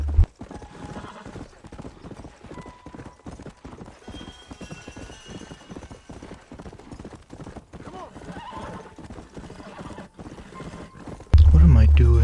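A horse in the Red Dead Redemption video game trots with a steady, rhythmic clip-clop of hooves, close and continuous, ending in a sudden louder burst of sound.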